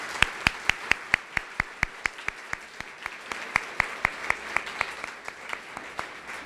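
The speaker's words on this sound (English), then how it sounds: "let's give them all another round of applause" Audience claps for a group of conference speakers at a housing agency event, heard as a steady run of sharp, regular claps at moderate level through the whole stretch, with no talk over it.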